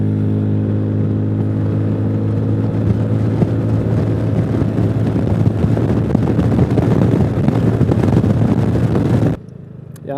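A Zontes 368G motorcycle engine revs up and accelerates steadily, its roar building with wind buffeting the microphone, then cutting off abruptly near the end.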